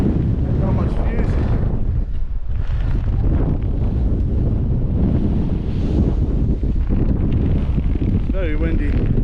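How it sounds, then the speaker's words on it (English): Strong, constant wind roars and buffets the microphone on a Munro summit at Ben More and Stob Binnein in Scotland, loud and unbroken throughout, with a voice briefly heard speaking beneath the gusts. "Very windy."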